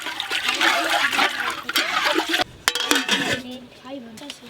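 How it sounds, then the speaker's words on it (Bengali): Water splashes and gushes steadily into a metal pot of fried rice and lentils for khichuri, with clinks of the pot and a brief pause midway before the pouring resumes. "চাল আর ডাল ভালো করে ভেজে নিয়েছি, এবার জল দিয়ে দেবো।"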